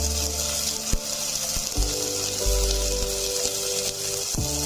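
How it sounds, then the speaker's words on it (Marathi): Mixed vegetables with chickpeas, green peas, radish pods and carrot sautéing in oil, a steady soft sizzle with occasional stir clatters and knocks in the pan, close and fairly quiet. "ह्या सर्व भाज्या आपल्याला चांगल्या परतून घ्यायच्या आहेत तेलामध्ये"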